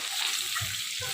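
Pre-boiled raw banana fries in a pan with mustard seeds, cumin and curry leaves, giving a steady close sizzle with a couple of soft low thumps from stirring and no speech.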